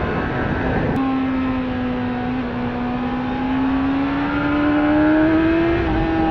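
A 1997 Suzuki GSX-R 600 motorcycle accelerating hard, its engine note a loud steady whine rising gradually in pitch through a single gear, heard close from the rider's position with wind noise.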